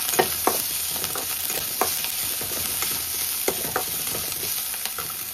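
Garlic and other ingredients are stirred in a hot frying pan for a semolina pitha filling, with a steady sizzle under repeated spoon scrapes and clicks against the pan, close and fairly loud, no talking.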